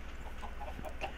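Chickens clucking in Minecraft, a few soft, short clucks over a low steady hum, faint and brief, with no talking.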